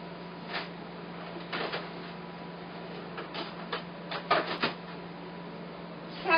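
A home printer runs with irregular mechanical ticks, clicks and short whirring bursts over a steady low hum, growing busier toward the end.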